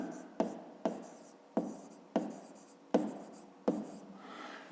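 Pen writing by hand on paper during a fifth-grade maths exercise, heard as six regular strokes with sharp onsets and scratchy tails, close and fairly quiet, with no talk over it.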